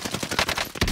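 Rapid automatic gunfire in Call of Duty Warzone, a fast close burst of several loud shots ending in a heavy blast, no talk over it.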